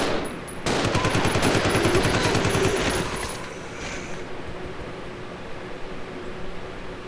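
A shotgun blast in Resident Evil 0 opens with a loud, sharp crack, then a dense roar that rings for about two seconds. The report fades into a quieter, steady hum that carries on to the end.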